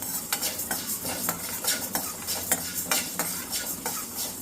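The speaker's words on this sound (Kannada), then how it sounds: "ಸೊ ಲೋ ಫ್ಲೇಮಲ್ಲೇ ಎಲ್ಲವನ್ನು ಹುರಿಬೇಕು" Spices stir-roasted in a pan over a low flame, with repeated close scraping and clinking strokes of a spoon against the pan and a faint sizzle underneath, steady throughout.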